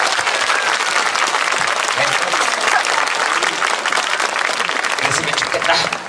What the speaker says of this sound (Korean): 이 박수는 여러분들 스스로에게 치는 박수다